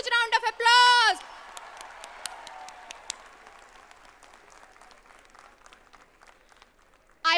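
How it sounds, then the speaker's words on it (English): Audience applause at a college placement day ceremony, a spread of claps of moderate loudness following a brief spoken announcement, with another voice cutting in at the end. "A huge round of applause"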